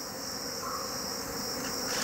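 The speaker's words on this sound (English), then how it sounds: "thousands of alarmed bees are swarming out" Thousands of alarmed bees swarm out of a wild hive high in a tree during a torch-lit honey raid, making a dense, continuous buzzing drone that holds steady throughout.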